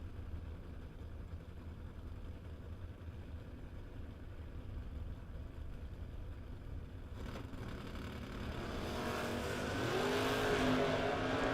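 A drag-racing 96 Beretta driven by Jeff Pasquarello Jr. at the Mutt and Jeff Race rumbles in the distance, its engine noise faint and steady before swelling louder toward the end.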